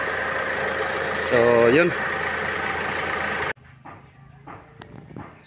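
A Hyundai or Kia car engine idles with a steady mid-low drone and faint vibration during an air-conditioning check, then cuts off abruptly partway through, leaving a quiet room where someone speaks briefly.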